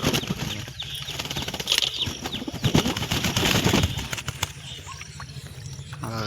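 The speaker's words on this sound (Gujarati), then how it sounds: "આપણા કબૂતર છે, બધા કબૂતર નાઈને સુકાય છે." Pigeons bathing and drying off, with bursts of wing flapping and fluttering amid splashy water noise and occasional soft bird calls, close by, no speech.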